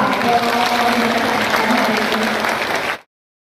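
An audience at an evening gathering bursts into loud, sustained applause, a dense and even roar of clapping with faint crowd voices beneath, cutting off after about three seconds.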